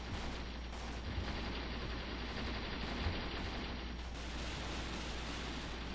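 Continuous distant small-arms and machine-gun fire crackling through a Graviteam Tactics tank battle set in Soviet-era Afghanistan, a steady dense rumble of shots with no clear gaps, no talk over it.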